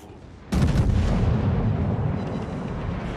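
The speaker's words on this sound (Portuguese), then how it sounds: "Cara, eu tô tomando muito tiro" After a quiet moment, a sudden loud burst of gunfire strikes a ship in a naval video game, erupting and continuing as a dense, rumbling barrage.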